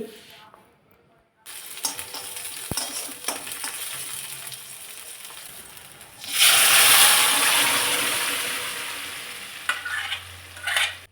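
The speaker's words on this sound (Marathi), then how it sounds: "चांगली व्यवस्थित परतून घ्यायची" A leafy vegetable with coriander is stir-fried in a pan, loud close sizzling and scraping that swells into a bright hiss midway, then eases, with a quiet start.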